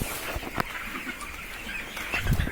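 English hens and their chicks on a farm, giving soft, faint clucks and peeps with a few brief rustles.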